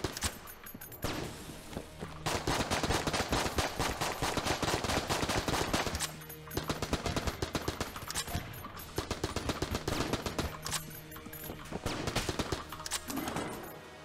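An AK-47 fires in a video game in long, fast, crackling bursts of close gunfire that go on almost without a break, stopping only briefly twice.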